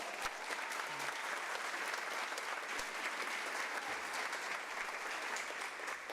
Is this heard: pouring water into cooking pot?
no